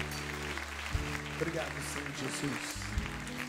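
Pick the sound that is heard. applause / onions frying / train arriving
applause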